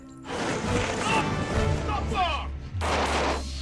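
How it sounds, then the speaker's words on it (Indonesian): Film gunfire as police shoot masked figures in V for Vendetta: sharp loud cracks and bursts over a dramatic score with low rumble, in several clusters across a few seconds. "menunjukkan video potongan kru BTN yang memakai topeng seperti V ditembaki oleh polisi"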